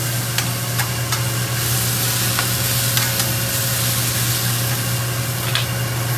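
Truffled mushrooms sautéing in a pan, a loud, continuous close sizzle with a low steady hum underneath and a few light utensil taps.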